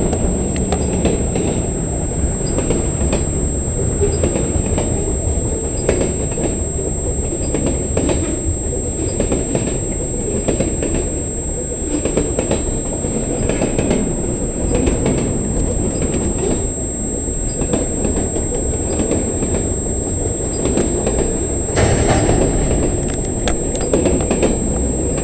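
Switcher locomotives and a string of rail cars roll past at a yard near Toronto, a steady loud rumble with clickety-clack wheel beats and faint squeals, continuous for the whole stretch.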